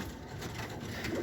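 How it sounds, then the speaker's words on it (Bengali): A khoyra gola (brown-necked) pigeon at a breeder's home in Lalbagh coos softly and continuously, close by, with no talk over it. "এটা হচ্ছে আসিফ ভাইয়ের একটা খয়রা গলা কবুতর।"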